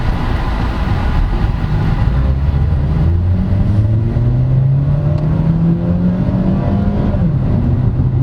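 A 2012 Mitsubishi Lancer EX GLX automatic revs up to 6,000 RPM, heard loud from inside the cabin as the engine tone climbs steadily over several seconds, with no talking.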